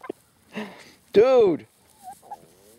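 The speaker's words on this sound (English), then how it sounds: "These chickens are killing me." Farmyard fowl near a horse training session cluck and gobble in short bursts, with one loud drawn-out call in the middle and a brief spoken word at the start.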